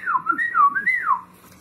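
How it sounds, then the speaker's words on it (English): A clear, sliding whistled tune rises and falls in several wavering phrases, close and alone, produced as part of a magic trick with a sheet of paper. "Make this paper start to whistle."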